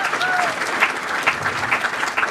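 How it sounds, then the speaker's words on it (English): An audience at a chamber of commerce awards event applauds for Karen Stout, the communications and finance coordinator, with steady, dense clapping from a sizable crowd throughout. "big round of applause for Karen Stout, our communications and finance coordinator"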